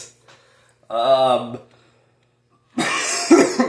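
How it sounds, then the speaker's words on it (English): Two separate harsh coughs from a person who is sick, close to the microphone, with a short silent pause between them. "Sorry about my coughing."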